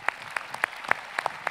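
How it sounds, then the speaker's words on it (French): Scattered hand claps from a small audience at an employers' organisation general assembly, a handful of distinct, fairly loud claps at irregular intervals over a quiet room background. "Martine Vassal, on peut l'applaudir"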